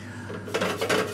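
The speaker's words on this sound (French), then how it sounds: "Donc là, une casserole bien chaude. On va mettre notre sucre." A hot saucepan clinks and scrapes on the stovetop as sugar is added for caramel, a few sharp metallic knocks in close succession after a quieter start.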